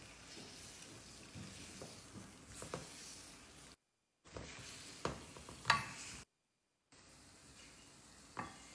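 Dates being stirred with flour in a pan over medium-low heat, scraping and stirring strokes with faint sizzling, close and moderately quiet, broken by two short silent gaps.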